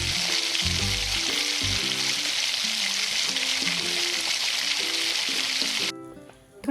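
Coriander-cumin powder fries with a Maharashtrian tawa mutton masala, producing a loud, continuous sizzle with repeated clinks of stirring before the sound cuts off near the end.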